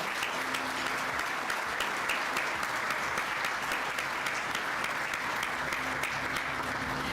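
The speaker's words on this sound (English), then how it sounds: "please give a big round of applause to all of our award winners today" An awards ceremony audience at the ACT building and construction industry awards applauds its winners, a steady, dense roar of clapping that holds evenly throughout at moderate volume.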